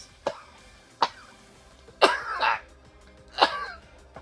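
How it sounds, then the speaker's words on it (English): Four short coughs from a person, spaced about a second apart, the last two longer and harsher, close and moderately loud over faint background music. "when I feel a cough coming and I want to finish a line"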